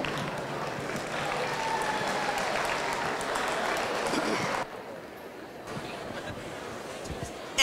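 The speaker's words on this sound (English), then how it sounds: "Let's give these kids a round of applause." Audience applause at a youth fair market steer show in a show ring, a broad steady wash of clapping that drops off sharply partway through and then continues more quietly.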